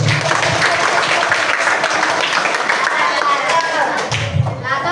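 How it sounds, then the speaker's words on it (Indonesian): Scouting session participants clap for a classmate, a brief burst of fairly loud, dense applause with a few thumps, in an indoor room. "Beri tepuk tangan untuk Ridho."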